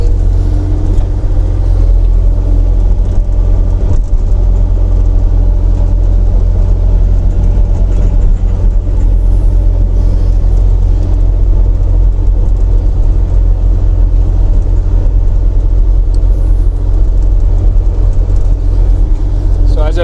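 A Kubota KX040-4 excavator moves piles and flattens a laneway so dump trucks won't sink. Its diesel engine gives a loud, steady, close rumble that runs unbroken through the whole stretch.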